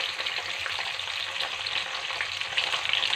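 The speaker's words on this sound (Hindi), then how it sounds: "हमारे पॉपकॉर्न का घी तैयार है और पॉपकॉर्न तैयार है पॉप होने के लिए" Popcorn kernels sizzle in hot ghee in an open pan, a steady, bright crackling hiss that runs on evenly throughout with no talking.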